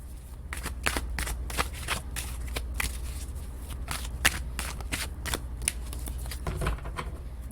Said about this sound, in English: So maybe this deck likes to be shuffled in between.